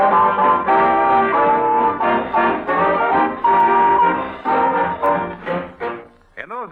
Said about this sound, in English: In those 8 bars of American jazz lies a story.